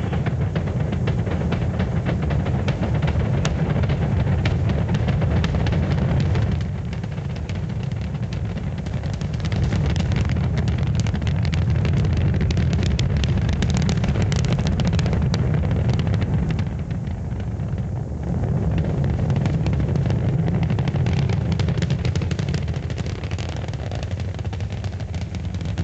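The Apollo 9 Saturn V rocket engines roar at liftoff in 1969: a continuous, heavy, low rumbling thunder that holds strong throughout, with rough crackling texture and slight surges.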